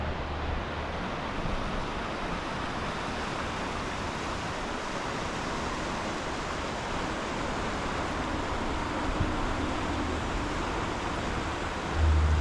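A steady broadband rush of the Dolores River continues without pause, even and fairly loud, running nearby.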